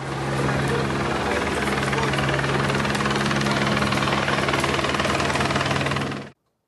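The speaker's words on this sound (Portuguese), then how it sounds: "ó o avião caindo" An airplane engine as the plane falls and crashes, a loud, steady, pulsing mechanical roar with a rapid chopping rhythm that holds for about six seconds before cutting off abruptly.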